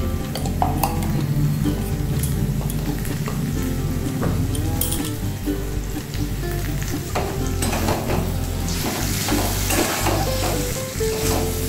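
Vegetables fry in mustard oil with ginger in a pan, giving a continuous crackling sizzle broken by frequent spatula scrapes and light metallic clinks against the pan, close and busy, with no talking.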